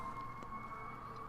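A steady, wailing siren sounds outdoors in the Minecraft video game, holding a fairly constant pitch for the whole moment at a moderate, slightly distant level, with no talking over it.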